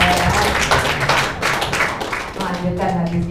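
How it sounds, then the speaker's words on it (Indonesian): An audience claps and applauds at a gathering in Kauman Kampung Qur'an, a steady burst of clapping mixed with voices talking over it. "Tepuk tangan juga ya."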